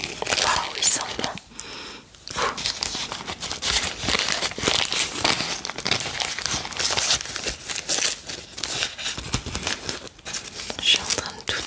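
Paper wrapping is torn off a small packaged soap held close, giving continuous crisp crinkling, ripping and rustling with brief pauses, loud and intimate throughout.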